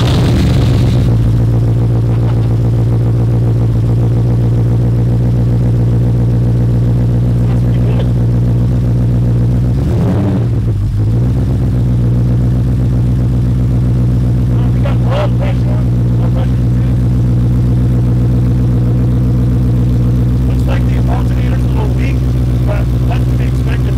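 A Porsche 928 engine, one of several in a garage, idles steadily after starting, producing a loud, continuous low rumble with a brief dip partway through as people talk over it.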